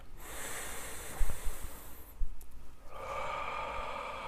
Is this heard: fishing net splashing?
no